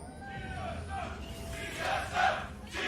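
A large esports arena crowd at an LCS League of Legends match between TSM and OpTic Gaming chants and roars in rising waves, loud but slightly distant, with voices swelling toward the end.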